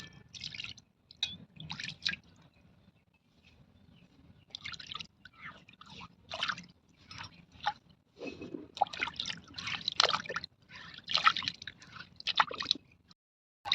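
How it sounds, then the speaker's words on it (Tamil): Wet squishing and splashing of water being poured and swished around a stone grinder to rinse it, in irregular bursts with brief quiet gaps. "தண்ணி ஊற்றி எல்லாம் கழுவி ஊற்றிக்கலாம்."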